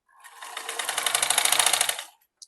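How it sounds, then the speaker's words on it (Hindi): A sewing machine stitches the strap of a kurti in one close, continuous whirring burst of rapid needle strokes lasting about two seconds. It then stops, followed by a single small click. "फिर जाके धीरे से सिलाई लगा देंगे।"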